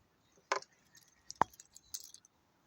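A set of two motorcycle keys for a Honda XL185S jangles in brief metallic clinks, with a sharp jingle near the start, one bright clink in the middle and a short cluster of small clinks toward the end, close and fairly quiet.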